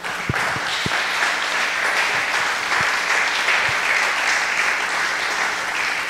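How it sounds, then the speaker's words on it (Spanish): A church congregation claps for the Lord during a revival sermon, producing steady, full applause throughout with a few sharper thumps near the start. "Dale un aplauso al Señor,"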